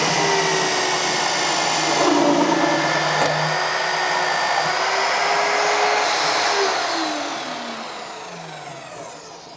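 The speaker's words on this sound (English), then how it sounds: "turn on the drill with the easy touch panel" A MagDrill Disruptor 30 magnetic drill cuts a hole with a loud, steady whirring hum whose pitch drifts and dips under load, then tails off toward the end. Close by, with no talking.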